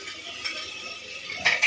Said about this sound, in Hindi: यहाँ लोग अभी मसाला भून रहे हैं, धनिया हल्दी मिर्च डाल दिए हैं